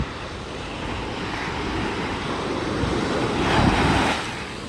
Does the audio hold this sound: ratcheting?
no